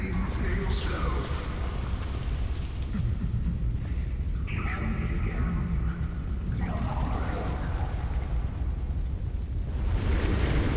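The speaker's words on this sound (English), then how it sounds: "you have got to quit exploding out of my bonfires" A game bonfire in Dark Souls 2 erupts with a sustained roaring, rumbling burst that fills the whole stretch, dense and loud, with crackling texture and a few brighter flares riding over the low boom.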